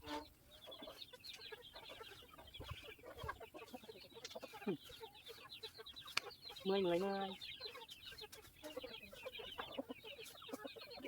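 Chickens clucking on a rural farm, near and busy, with overlapping clucks and one louder squawk partway through, while a person speaks intermittently underneath.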